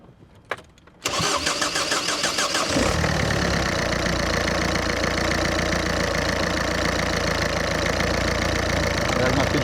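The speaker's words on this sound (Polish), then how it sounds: "Sprawdźmy, jak odpala i jak brzmi dźwięk pod maską." A Ford car engine, parked for a week, cranks briefly after a short click, catches, and settles into a loud, steady idle with a slightly rough, knocking rhythm.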